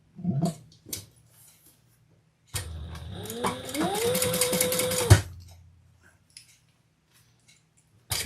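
A sewing machine stitches leather for a messenger bag at a length-4 stitch, running in one burst of about three seconds with a rising motor whine and rapid needle thumps, framed by quiet handling clicks.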